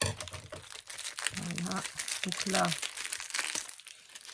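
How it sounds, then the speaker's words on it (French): Scissors cut through plastic packaging for scrapbooking snap buttons, producing close crinkling and crunching snips in short bursts, while someone speaks briefly. "on prend les ciseaux et on coupe un peu mieux"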